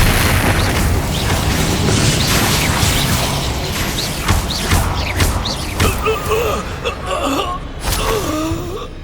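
An Expelliarmus disarming spell goes off in a Hogwarts Legacy duel as a loud, dense magical burst. Booming, crackling effects and shorter bright hits follow, with faint voice-like sounds in the mix.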